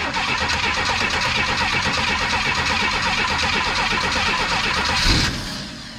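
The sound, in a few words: classic car engine cranking and trying to start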